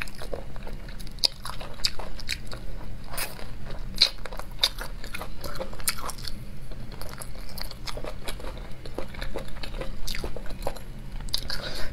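A crunchy spicy snack is bitten and chewed close up, with repeated sharp crunches and wet chewing sounds in an irregular rhythm and no talking.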